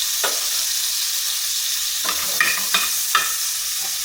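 Marinated prawns fry in a pan with a continuous soft sizzle, broken by a few clinking stirs and scrapes from a utensil, close and fairly quiet.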